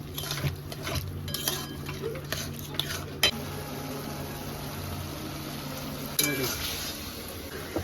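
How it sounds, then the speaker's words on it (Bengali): Whisked yogurt being stirred and sautéed in a pan for a chickpea curry, with steady scraping stirs, a low sizzle and a few sharp utensil clicks against the pan, no voices. "ফেটিয়ে রাখা দইটা এবার আমি দিয়ে দেবো এবার আমি ভালো করে কষিয়ে নেবো"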